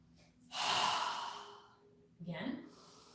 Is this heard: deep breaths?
yes